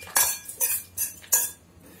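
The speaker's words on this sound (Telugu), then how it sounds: "ఇప్పుడు ఈ పోపుని అన్నంకి కలుపుకోవాలి." A spoon mixes fried tempering into cooked rice for temple-style curd rice, giving four quick metallic scrapes and clinks against the vessel in an even rhythm, close and fairly quiet.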